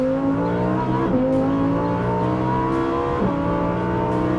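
A Lamborghini Huracan V10 engine revs hard and accelerates on a track, its pitch climbing steadily, then dipping briefly at two quick gear shifts before rising again, loud and close.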